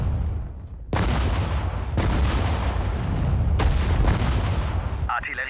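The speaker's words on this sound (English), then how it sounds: "That Katyusha's going to fire for days." Katyusha rocket artillery firing in the WWII strategy game Sudden Strike 4, a series of loud, close booming launches and blasts every second or so over a dense rumbling battle din.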